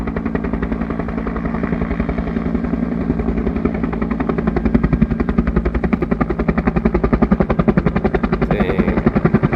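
Firefighting helicopter hovering close overhead while filling up at the Box Canyon wildfire in the Rincon Mountains near Tucson, Arizona, a loud, steady rhythmic rotor chop that grows heavier through the clip with no talk.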